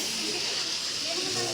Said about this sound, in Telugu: ఇక్కడ చిన్న వాటర్ ఫాల్ ఉంది.